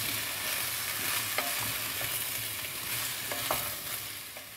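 Aubergines, courgettes and other vegetables frying in oil in a pot for a Provençal ratatouille, a steady low sizzle with occasional stirring clinks and scrapes, no talking.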